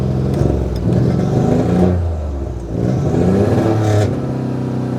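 A 1986 Nissan 300ZX with a suspected fuel problem, its engine rising and falling through loud, steady revs at full throttle. The running note swells twice with a short dip between, and no voices are heard.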